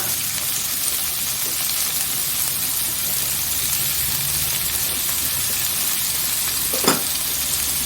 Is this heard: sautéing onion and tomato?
yes